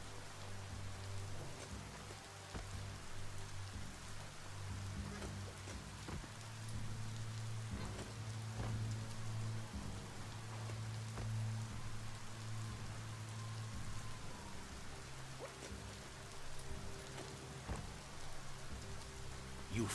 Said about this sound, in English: escaping the rain if you've got to be out.